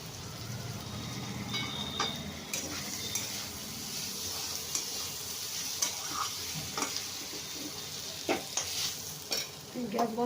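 Potato and kundri cooking with mustard paste in a pan, a soft steady sizzle broken by repeated spoon scrapes and clinks against the pan, close and moderately quiet, with no talking.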